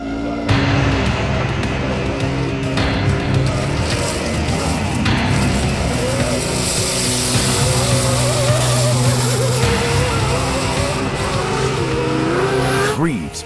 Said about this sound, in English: McCachran pushes his truck to the limit as Greaves nears him.